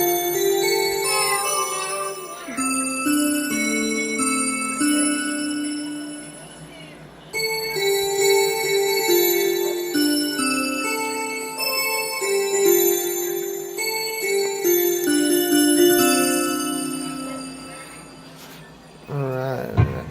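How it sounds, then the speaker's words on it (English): Bright electronic bell tones from a Yamaha PSR-S975 keyboard ring out in a steady melodic sequence, notes overlapping and sustaining, fairly loud and close for about twenty seconds. "it's a bell."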